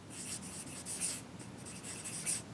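Pen writing on paper while planning a written prayer layout, a steady close scratching with short strokes and brief pauses, no talking.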